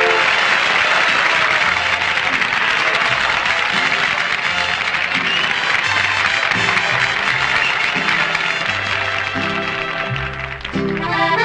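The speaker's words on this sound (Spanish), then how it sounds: "¡Viene el aplauso!" Dense, sustained applause from a large audience after a mariachi performance fills the whole stretch, loud and continuous with low musical tones faintly beneath.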